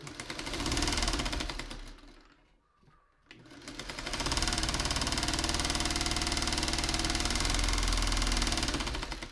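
Sewing machine stitching scrappy quilt pieces, a steady rapid mechanical hum running near and loud, briefly stopping in a short pause before resuming continuously.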